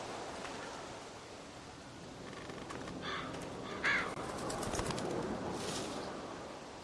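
Soft bird cooing, like a pigeon or dove, from a Walking Dead video game scene, heard faintly a few times over a steady hiss of ambient noise.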